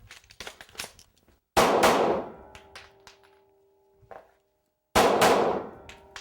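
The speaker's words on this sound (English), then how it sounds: "we're going to shoot one-handed" Two sharp handgun shots fired one-handed at a combat shooting range, well spaced and close, each a loud crack with a short ringing tail, after some quiet clicks and handling noises.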